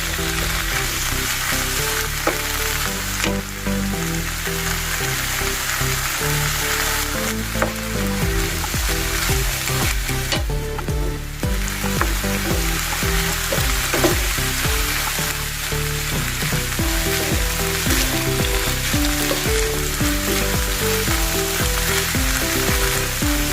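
Coriander chutney frying in oil in a pan, a loud, continuous close-up sizzle with scraping stirring strokes throughout and no talk.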